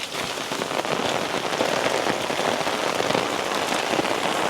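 Heavy rain drums hard and steadily on nearby surfaces in a garden, a loud, dense patter of drops that stays constant for the whole stretch without voices.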